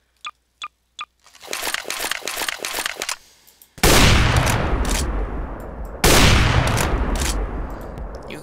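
Gunfire from a gun in Garry's Mod: a few sharp isolated shots, then a rapid burst of automatic fire, followed by two huge roaring blasts with long rumbling tails, loud and close with no talk.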